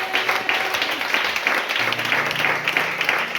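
Congregation at an evangelical church service applauding and cheering in praise, a steady, dense wash of clapping that fills the room without a break.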